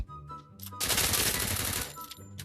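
Rapid automatic gunfire in the Free Fire battle royale game: a dense, loud burst of sustained shooting lasting over a second, with quieter in-game ambience before and after.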